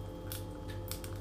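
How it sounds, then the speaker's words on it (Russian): A knife slits open a cigarette pack, three short crisp scraping cuts close up over a quiet low hum. "Сейчас воспользуемся ножиком, наверное."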